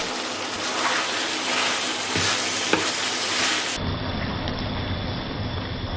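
Onion goes into a pan already frying with garlic, pepper, salt and grated nutmeg, giving a loud, continuous sizzle up close that stays steady and then turns duller partway through.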